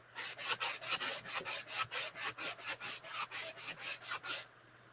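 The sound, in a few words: sanding block rubbing painted wood to distress it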